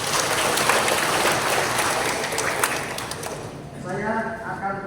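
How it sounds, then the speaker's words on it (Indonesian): A church congregation at a feast-day Mass claps together in a broad, close round of applause that fades after about three seconds, with speech following. "Kita tepuk tangan untuk kita."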